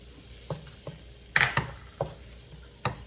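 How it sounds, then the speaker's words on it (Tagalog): Garlic sautéing in very hot oil in a pan for Filipino sweet-style spaghetti, a soft sizzle broken by several crisp spatula stirs and knocks against the pan. "And then let's saute the garlic."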